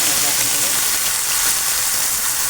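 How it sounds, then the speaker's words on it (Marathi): Paneer tikka masala frying in ghee until the oil separates, giving a loud, steady close-up sizzle that runs without a break. "पूर्ण सगळा तेल सुटेपर्यंत भाजून घ्या."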